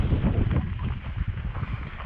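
Chilly wind gusting across an open outdoor railway line on a bright, sunny day at Pass Lake Station, a steady low buffeting rumble that stays loud and close throughout, with no voices.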